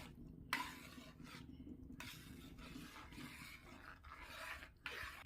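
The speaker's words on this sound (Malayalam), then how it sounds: "അതും കൂടി ഇട്ട് കൊടുത്ത ശേഷം വീണ്ടും നമുക്ക് നല്ലതുപോലെ ഇളക്കി കൊടുക്കാം" Sago being stirred into kadala paripp (chana dal) payasam in a pot: a steady close scraping and rasping of the spoon against the pot, continuous and fairly quiet, with a few sharper clinks along the way and no talking.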